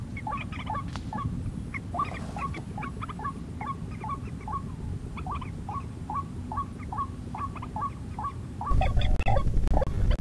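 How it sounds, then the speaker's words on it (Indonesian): A burung tikusan rail calls close by in a regular series of short, sharp notes repeated roughly every half second, over steady outdoor background noise, ending with a louder rustle. "ada yang mendekat lagi teman-teman. Burung tikusan ya."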